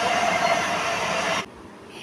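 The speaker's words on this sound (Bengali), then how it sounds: "এই স্টেশনের আগে ট্রেনটা বেশ কিছুক্ষণ দাঁড়িয়ে থাকে, তারপর এই যে চলতে আবার শুরু করেছে" A commuter train bound for Dum Dum station gets moving again after a long halt, with a loud, close rumbling roar that cuts off abruptly partway through and leaves only faint background noise.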